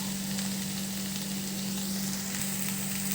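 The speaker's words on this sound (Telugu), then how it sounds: "సిమ్లో పెట్టి ఫ్రై చేసుకుంటాను. ఇప్పుడు చూడండి, ఇలా ఫ్రై అవుతుంది." Ivy gourd (kovakkai) curry fries in a pan over a low flame, giving a steady, continuous close-up sizzle with a faint constant hum underneath.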